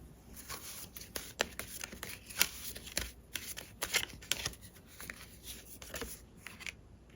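A tarot deck shuffled by hand, brisk riffles and soft slaps repeating close and clear for several seconds, with no voice over them.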